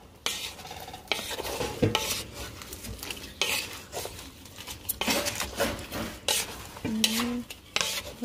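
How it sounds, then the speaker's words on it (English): Stirring in a pan as shrimp are mixed and coated in a buttered garlic sauce sweetened with lemon soda, with utensil scrapes and clinks against cookware over a soft sizzle, close and irregular. "just mix and coat the shrimps"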